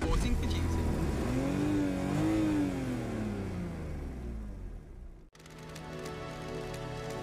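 A car engine in the video game Paradise Killer revs with a rising and falling tone, steady and fairly loud, then cuts off abruptly and gives way to a different ambient game sound.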